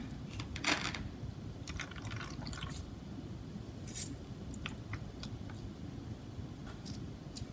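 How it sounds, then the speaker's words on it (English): Fabric is dunked into liquid starch and wrung out, giving faint wet splashes, drips and squishy trickles in scattered bursts over a soft, steady background hiss. "I'm going to dunk it in the liquid starch, make sure it's all covered, wring it out"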